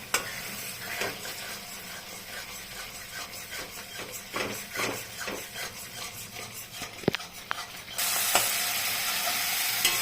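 Spice paste frying in oil in a pan for a prawn curry, a steady close sizzle with intermittent stirring scrapes and clinks, growing louder and brighter near the end.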